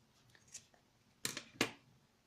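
Scissors snipping thread while a wallet is sewn, two close, crisp cuts after a few faint handling noises, no talk.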